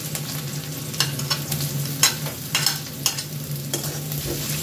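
Chopped garlic fries with browned onions in a pan for bread rolls, a constant sizzle broken by several sharp scraping stirs at an irregular pace, with a low steady hum beneath.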